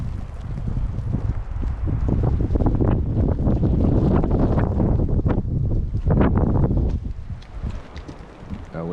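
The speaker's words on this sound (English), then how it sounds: "That wind is kicking yours." Gusty wind roars over the microphone during a May snowstorm in mountain wilderness, loud and continuous with buffeting thumps, and voices talk faintly beneath it.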